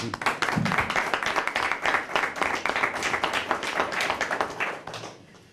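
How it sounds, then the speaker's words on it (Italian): Audience applause for Dr. Spagnoli at an Italian sports talk, a dense burst of many hands clapping steadily at close range for about five seconds before fading out. "Farei anche un applauso a questo dottor Spagnoli."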